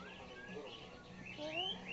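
A pet bird gives a few faint, thin chirps and rising whistled notes indoors, quiet and brief against a soft background.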